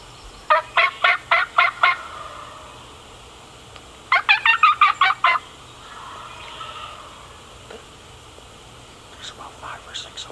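Wild turkeys gobbling about 60 yards off, a flock of five or six: two rapid runs of loud, rattling gobbles, each six or seven pulses, then a fainter scattered volley near the end, with quiet whispering between.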